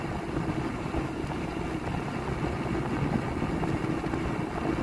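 A slow-moving motorcycle with a rough, poorly running engine, a continuous low rumbling drone at steady volume, fairly near, with wind noise and no speech.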